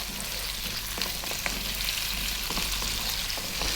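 Potato pieces fry in a pan over above-medium heat, giving a steady, close, continuous sizzle with small crackles and occasional light pops throughout, no talking.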